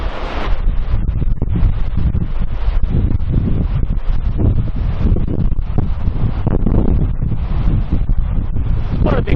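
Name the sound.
wind on the coast at Robe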